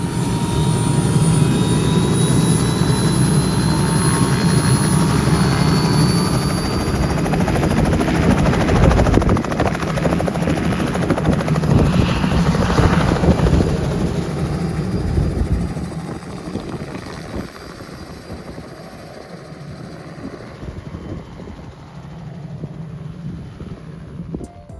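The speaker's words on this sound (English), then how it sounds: "we ended up at this little helicopter thing" A helicopter at a pier in Galveston gives off a loud, steady rotor and engine roar up close, which slowly fades toward the end.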